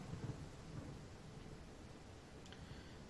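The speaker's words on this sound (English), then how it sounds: "It's raining." Steady rain with low rolling thunder in a strategy game, a continuous wash of downpour and a deep rumble held at an even level, with a brief brighter crackle near the end.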